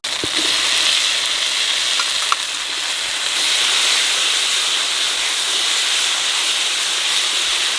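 Loud, steady hissing sizzle of tomatoes hitting hot oil with fried chili paste for a jackfruit and prawn curry, continuous and close, with a faint clink early on and no voices.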